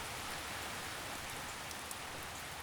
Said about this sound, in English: gently guide it back to the sound of the rain